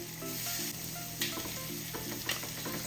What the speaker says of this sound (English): I'll let it cook for maybe 2 minutes on that side